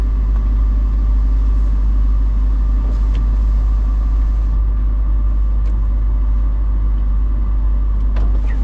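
A Mercedes G-Wagon engine runs steadily at close range, a continuous low rumble with a faint idle-like drone holding throughout, with no clear speech over it.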